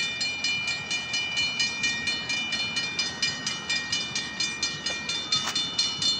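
A slow-moving train passing a crossing at Main Street and Michigan Street, steady rhythmic clacking of wheels over rail joints repeating at an even pace, with a crossing bell's high ringing running continuously alongside, moderately near.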